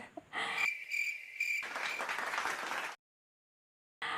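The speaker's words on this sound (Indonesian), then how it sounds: "Yeay, tepuk tangan." Short burst of classroom applause after a student presentation, clapping with a high electronic tone layered over it, then a sudden cut to silence before the clapping briefly resumes.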